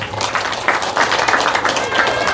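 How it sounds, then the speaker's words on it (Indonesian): An audience at a pesantren gathering in Kubu Raya, West Kalimantan, claps for Darul Fikri, a continuous crowd applause filling the short moment at steady loudness. "Tepuk tangan untuk Darul Fikri."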